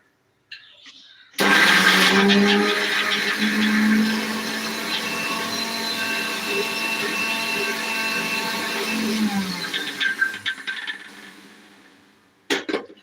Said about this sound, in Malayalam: നമുക്ക് മിക്സിയിൽ തേങ്ങ അതാ വെച്ചിട്ടുണ്ട് നമുക്ക് നന്നടിക്കാം